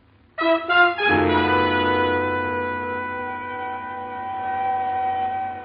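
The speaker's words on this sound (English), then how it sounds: "The sound of an ambulance wheeling into the receiving room below shatters your train of thought." A siren sound effect for an ambulance arriving at a hospital receiving room in a radio drama, rising sharply and then holding a loud, steady wail that sustains to the end without any speech.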